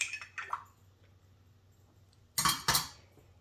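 Cinnamon stick stirring a hot non-alcoholic cocoa with bitters in a mug, giving a few soft clinks and scrapes at the start and then two louder clinking knocks near the end, with quiet pauses between.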